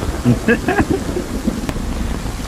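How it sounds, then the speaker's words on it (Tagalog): Heavy rain pours down steadily outdoors in San Fabian, a dense, even hiss throughout, with a few faint voices briefly over it at the start. "ang lakas ng ulan"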